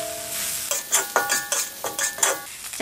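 Pickled salted vegetables tossed into a hot wok with garlic, scallion and chili powder sizzle steadily while a metal spatula scrapes and clanks in a quick, uneven rhythm close by, with no voice.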